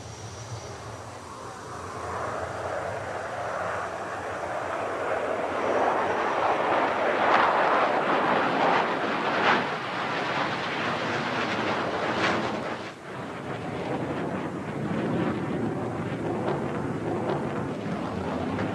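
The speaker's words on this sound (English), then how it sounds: "The Swifts fly a mixture of single and two-seater MiGs, generally in a group of 6, with a 7th aircraft flying solo." Several MiG jet aircraft fly together in formation, giving a broad, continuous roar that swells, peaks and eases over the passage with some wind noise and no voices.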